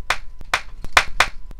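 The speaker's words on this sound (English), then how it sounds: "Round of applause for Fred." A few loud, close hand claps for Fred at a business conference-room gathering, spaced in a loose rhythm of four strong claps with lighter taps between, and no voices.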